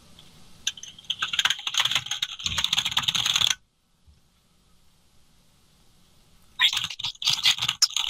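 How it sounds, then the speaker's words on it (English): Rapid, continuous clatter of keys typing on a computer keyboard, breaking off into near silence, then resuming in a quick burst. "Typing. I hear typing."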